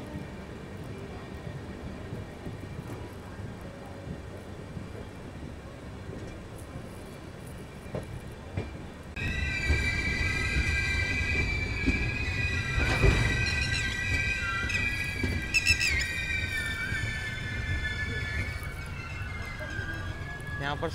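A train on the line toward Fatehabad Chandrawatiganj station rumbles along the rails, then about halfway a loud, sustained high metallic squeal of braking wheels rises over the heavy rolling noise as it pulls in.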